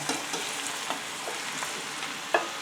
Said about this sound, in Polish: Cebula jest lekko podsmażona, tak zeszklona, że tak powiem i wrzucam pieczarki.